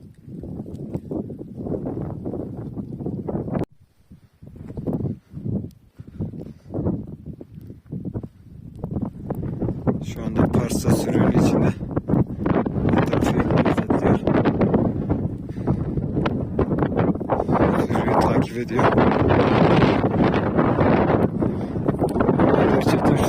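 Strong, roaring blizzard wind buffets the microphone almost continuously, with gusty broadband rushing that swells louder and steadier after a few brief lulls near the start.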